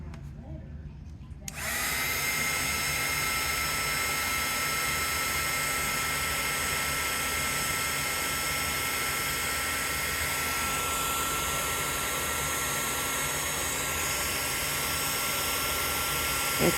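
After a quiet start, a heat or hair dryer switches on and blows steadily at close range for the rest of the stretch while drying a craft project, with a constant loud whooshing drone.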